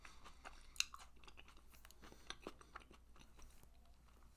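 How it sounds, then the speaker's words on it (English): Someone chews food right against the microphone, giving close, quiet wet crunches and bites in an irregular rhythm with one sharper click. "I don't want to munch on the fucking microphone and you guys just hear me eating"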